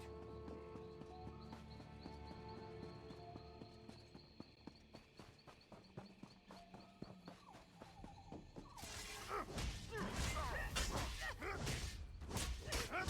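A horse gallops in The Elder Scrolls Online, its rhythmic game hoofbeats quiet at first under ambient music, then giving way to a louder, noisier burst of action toward the end.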